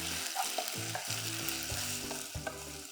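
Ginger garlic paste fries in a pan for a spicy egg dish, a close, steady sizzle broken by repeated stirring scrapes.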